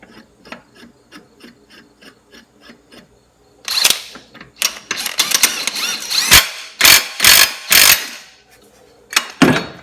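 A clutch puller bolt is turned to remove the primary clutch from a Polaris RZR 570. Rhythmic ratcheting clicks come first, then louder rasping, scraping bursts of metal working against metal, close and without speech.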